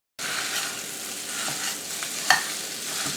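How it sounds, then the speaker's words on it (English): Italian sausage meat sizzles in a pan while a spatula chops and spreads it, a steady close frying hiss marked by a couple of soft scrapes and one sharp clink. "Chop the meat up and spread it out just a little bit."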